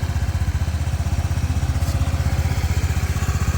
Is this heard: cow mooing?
no